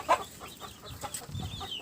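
Native-breed hens in a coop give a few soft clucks, one brief louder call near the start, faint and close amid quiet rustling.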